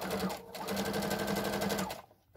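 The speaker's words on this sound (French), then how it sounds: "je les couds ensemble pour maintenir la couture" A sewing machine running steadily as it stitches fabric pieces together for a six-month baby romper. The close, continuous whirring needle rhythm lasts about two seconds, then stops abruptly.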